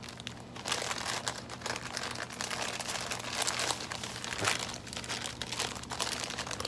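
Scissors cut through cloth being prepared as scenery for an N scale clay model train layout, giving a steady crinkling, rustling crunch close by that swells and fades over several seconds with no talk.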